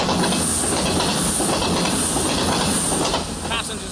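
A passenger train runs along a British railway track nearby, with a loud continuous rumble, rhythmic wheel clatter and hissing, fading slightly at the end.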